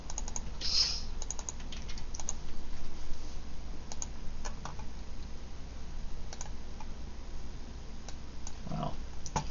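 Steady typing on a computer keyboard, with a run of light, uneven key clicks and occasional sharper taps heard close up in a quiet room.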